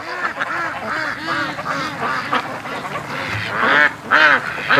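Muscovy ducks near a creek call loudly and repeatedly, overlapping raspy quacks and honking cries from several birds rising in intensity toward the end.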